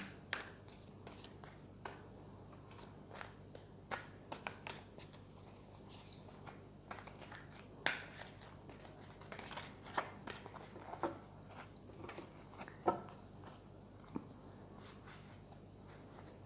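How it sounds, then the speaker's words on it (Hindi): Tarot cards shuffled and handled at close range, giving soft repeated riffling, flicking and tapping with faint background hum, no voices. "2-3 कार्ड्स एक साथ आना चाह रहे थे, मैं एक ही ले रही हूँ।"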